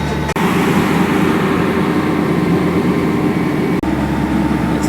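A Land Rover Defender on the road, its engine and road noise forming a loud, constant rumbling drone from inside the cabin, with two brief dropouts; no talking.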